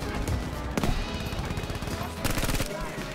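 Rapid bursts of gunfire in the video game Battlefield V on Wake Island, with sharp broadband shots and automatic fire stacking into dense volleys over continuous battle noise, loud and close.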